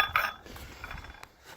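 A loose metal turbo heat shield being handled during a compound turbo and manifold install gives off light tinny clinks and rattles, a few scattered metallic taps close by with no talking.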